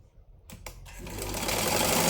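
A sewing machine stitches a blouse lining. A few short taps come first, then the motor ramps up into a steady, close, fast-running whir that grows louder over two seconds.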